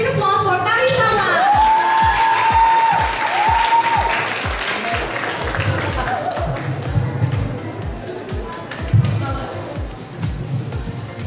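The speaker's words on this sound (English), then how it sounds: "So let's have a big applause for Tari Sama." Audience applause for a traditional Tari Sama dance performance at an Islamic school in Jakarta, loud clapping at first with a musical tone and a rhythmic thumping beat running beneath it.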